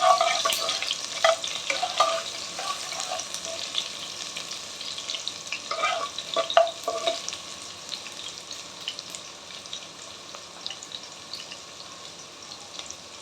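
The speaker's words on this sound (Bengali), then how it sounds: "ভালোভাবে একটু ফ্রাই করবো।" Chicken fried rice ingredients sizzle in a hot pan with chopped ginger, garlic and chilli, a steady close frying hiss with stirring scrapes and clatter, busier early then settling into a continuous sizzle, no voices.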